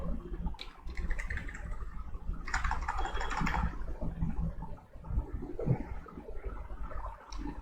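Close, steady keystrokes clatter on a computer keyboard as text is typed in, with irregular bursts and brief pauses between words.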